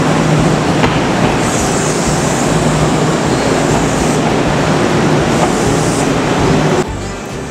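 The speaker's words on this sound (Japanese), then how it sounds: "6番乗り場、鳥羽行き快速急行が8両編成で参ります。" A loud, steady rumble of an eight-car Kintetsu Osaka Line rapid express train rolling into a station, with brief high squeals near the start and end before the noise drops away.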